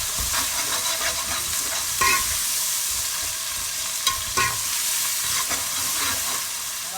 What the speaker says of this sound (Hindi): इसे भी फ्राई कर लेते हैं।